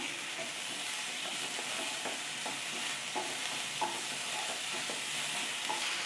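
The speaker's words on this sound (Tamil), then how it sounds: "இது இப்போ காலிஃப்ளவர் வதங்கிட்டு இருக்கும்போதே நம்ம உருளைக்கிழங்கு அதையும் சேர்த்துக்கலாம்" Cauliflower and potato sauté in a pan over the flame for aloo gobi masala fry, giving a steady, close sizzle with scattered stirring scrapes throughout and no talk.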